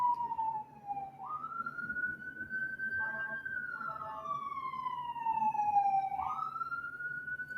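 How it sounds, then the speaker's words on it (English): A police siren wails in slow rising and falling sweeps, moderately distant and clear over low traffic rumble. "there is a siren"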